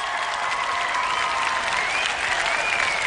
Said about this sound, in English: Raj, give him a round of applause for that one